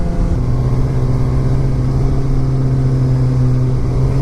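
A 2016 Suzuki GSX-R600 sport motorcycle engine runs loud and close, a steady mid-pitched drone with a low harmonic hum that holds evenly throughout rather than rising in distinct revs.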